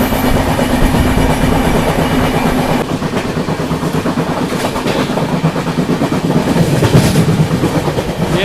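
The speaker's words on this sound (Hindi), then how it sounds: "बीच में ट्रेन आ गई यहाँ हाई कैपेसिटी पार्सल में" A high-capacity parcel train rushes past alongside a moving Kaziranga Express, a loud, close, continuous roar of wheels and rattling wagons with rapid clickety-clack, the rushing intensifying after the first few seconds.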